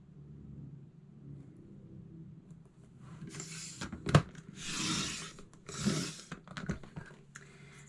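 Cardstock for a scrapbook layout gets cut with a few short rasping slices and a sharp click midway, over a low background rumble, close and fairly quiet with no talk.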